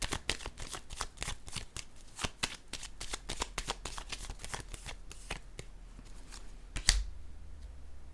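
Tarot-style cards handled during a reading, with a rapid run of crisp snaps and flicks as the cards are shuffled and riffled, then one sharper slap as a card is laid down, close and clear with no talking.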